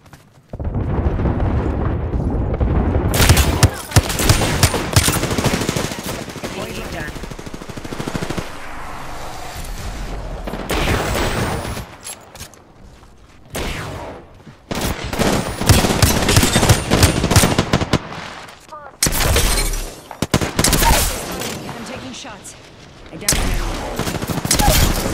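Rapid automatic gunfire from a squad-based shooter video game crackles in loud, dense bursts separated by short pauses, with a player's voice occasionally heard between volleys.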